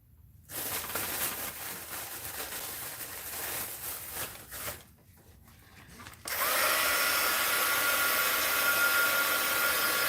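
A hair dryer blows steadily and close up, drying screen ink on a paper-bag craft project. Its loud airy roar dips briefly, then returns stronger and continues without a break.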